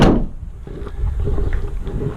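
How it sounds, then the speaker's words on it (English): A single solid car door thump from a Daihatsu Hijet campervan at the start, followed by low outdoor background noise. "Shut that door properly as well."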